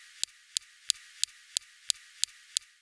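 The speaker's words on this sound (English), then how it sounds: "Next, we have the SuperCam laser zapping rocks." On Mars, the Perseverance rover's SuperCam laser zaps a rock with eight sharp, evenly spaced ticks in a steady rhythm. Each one is faint and thin, set against a quiet background.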